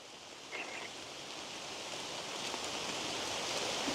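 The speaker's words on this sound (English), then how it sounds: "It's hard to hear with the rain coming down so hard now." Heavy rain pouring down on a forest trail in the Appalachians at night: a constant hissing wash of falling drops, faint and distant at first and building slightly louder toward the end, with a brief soft tone early on.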